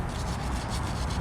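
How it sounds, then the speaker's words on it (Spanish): A wire brush rubs back and forth over the metal of a Cobra engine during cleaning, a steady, close, rhythmic scratchy scrubbing with a repeating stroke pattern, heard alone. "el cepillo de alambre se encarga de eso bastante bien"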